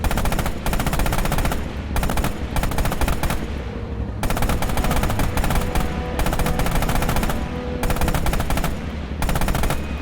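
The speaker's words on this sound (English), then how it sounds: "Use the hull MG and open fire on the targets." Bursts of hull machine gun fire from a tank in the Red Orchestra 2 video game, loud rapid automatic volleys separated by short gaps, with no talking.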